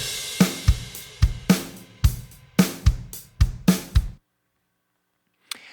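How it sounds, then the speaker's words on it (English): A rock drum loop generated by Logic Pro's Drummer: punchy kick and snare hits with cymbal wash in a steady driving pattern, loud and alone, ending abruptly with silence and a faint brief tick afterward. "And now you'll see it created an 8-bar drum loop for us"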